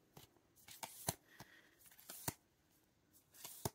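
Black Velvet Lenormand oracle cards are handled close up, giving quiet, crisp snaps and slides in irregular bursts, with soft shuffling in between and no voices.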